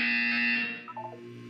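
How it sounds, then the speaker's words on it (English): A loud, steady electronic buzzer from the video game Portal 2 sounds alone for about a second, then fades and breaks into a few softer warbling tones. "You will hear a buzzer."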